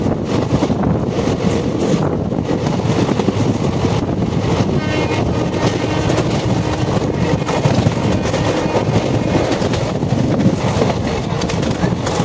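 The Tista Torsa Express runs along between New Cooch Behar and New Jalpaiguri near New Maynaguri, heard from inside as a steady, loud, rumbling roar with rattling and buffeting wind noise throughout.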